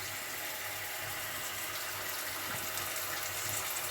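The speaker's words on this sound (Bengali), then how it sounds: "জল দিয়ে দিলাম" Water poured into a pot of melted jaggery and fried five-spice for a jujube pickle, a continuous even splashing rush close up for a few seconds without talk.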